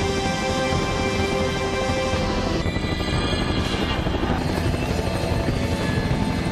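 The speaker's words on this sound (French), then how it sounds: "pourquoi en hélico?" A helicopter's rotor and engine drone loud and steady throughout, close by, with a dense continuous thrum and no voices over it.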